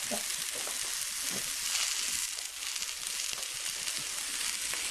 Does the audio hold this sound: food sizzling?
yes